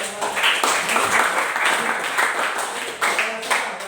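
A class gives a round of applause, a burst of clapping from a group in a room mixed with talking voices over it.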